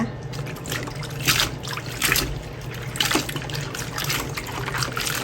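Warabi fern being rinsed clean in water, with running and splashing water in bursts as the fronds are handled, close and fairly loud, with faint talk in places.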